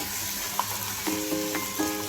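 Fish pieces fry in a pan for a Telugu fish curry, giving a steady close sizzle with a few sharp clinks and scrapes as they are turned.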